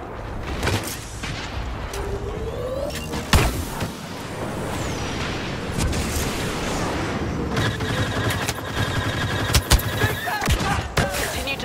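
Rapid blaster fire from a Star Wars Battlefront battle against a walker, dense overlapping laser shots and sharp bursts sustained throughout, loud and close amid a busy combat mix.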